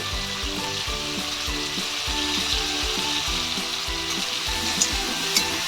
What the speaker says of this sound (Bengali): ভালো করে ভেজে নেব আলুটাকে